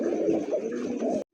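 Pigeons, including a German Shield hen, coo in a low, throaty, continuous murmur close by at a pigeon market, lasting about a second before cutting off abruptly.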